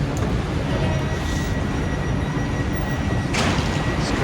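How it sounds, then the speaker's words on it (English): Paris metro line 14 train in a deep underground station, a steady loud rumble of running wheels and motor hum throughout, with a brief bright swell of rail noise late on and no talking. "this train 14 is where we need to go"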